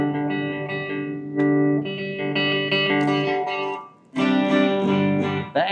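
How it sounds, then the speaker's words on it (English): Electric guitar through a Fender tube amp at low volume with all pedals off rings out in clean sustained chords and single notes, a brief gap before a final strummed chord, no voices. "when you turn all the pedals off, the amp sounds like this"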